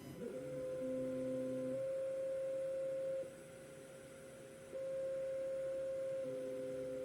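A Longer Ray5 10W laser engraver runs steadily, giving off sustained electronic tones that shift pitch in stepped segments, with a constant hum beneath and no voices.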